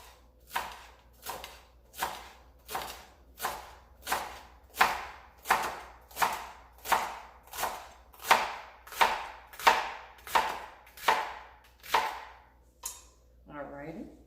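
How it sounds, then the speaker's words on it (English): A knife slices cauliflower and vegetables very thin on a cutting board with steady, even chops, about two per second. The strokes are close and crisp, and a brief voice comes in at the end. "I'm going to very thinly slice this. Very thinly, almost like ribbon"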